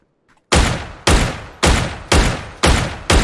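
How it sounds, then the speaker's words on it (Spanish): Six loud gunshots from the video game PUBG fire at a steady rhythm about half a second apart, each a sharp close crack with a short decaying tail, after a brief quiet start. "Le he dado dos tiros."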